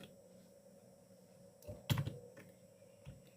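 A computer keyboard clicks under someone typing HTML code, a short uneven burst of keystrokes after a quiet stretch, faint and close, with no talking.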